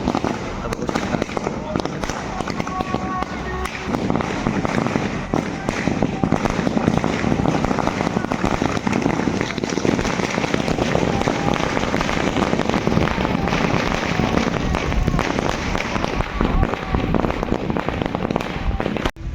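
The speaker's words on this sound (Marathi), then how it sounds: "जे आपलं वेलकम करतं आहे आपल्या वारेचा फटाके वगैरे वाजून" Dense, continuous crackling of firecrackers set off to welcome Pandharpur wari pilgrims bursts rapidly for a long stretch, loud and close, with voices faintly underneath.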